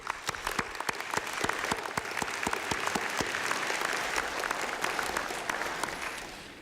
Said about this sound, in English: Please join me in a round of applause to welcome our newest members of the teaching